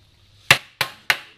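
Plastic beehive foundation freshly dipped in melted beeswax is tapped three times against a hard edge, giving three sharp, close knocks spaced about a third of a second apart with brief ringing decay, over near silence.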